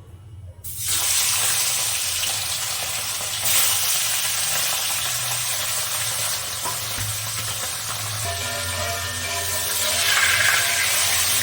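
Pomfret fish dropped into hot oil in a wok bursts into a loud, steady sizzle that holds strong and close without pause.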